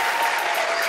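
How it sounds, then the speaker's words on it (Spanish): Dense, steady applause from a television studio audience fills the whole short moment, loud and close with no voices standing out. "Para ti, un aplauso para ella."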